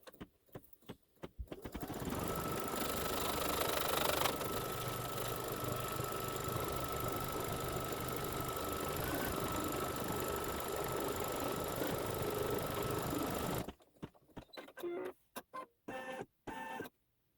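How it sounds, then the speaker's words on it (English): An embroidery machine stitches background placement on a quilt block, a loud, steady mechanical whir with rapid needle chatter that stops near the end, leaving a few scattered clicks. "The next stitching is for the placement of the background."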